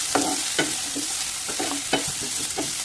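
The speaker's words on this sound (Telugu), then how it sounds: "ఇవన్నీ కూడా ఇలా వేయించుకోండి." Thinly sliced white and red onions frying in a pan, a continuous close sizzle with several distinct stirring scrapes spaced through it, no talking.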